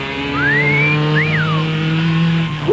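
Race cars revving at the start line and launching off the light at a drag race, a loud close engine roar with rising and sweeping pitch as the cars pull away.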